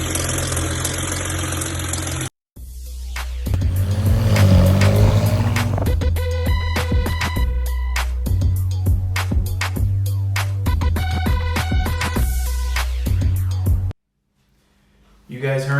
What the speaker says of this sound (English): N54s are notorious for wastegate rattle